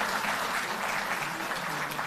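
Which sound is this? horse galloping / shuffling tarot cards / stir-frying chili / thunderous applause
thunderous applause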